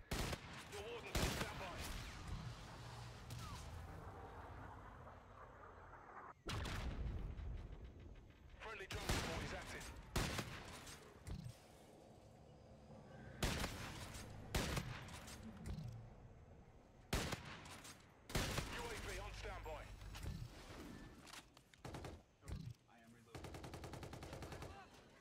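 Sniper rifle shots in Call of Duty: Infinite Warfare during a kill-streak glitch, a series of sharp loud cracks spaced every few seconds over a low game backdrop, with talk mixed in.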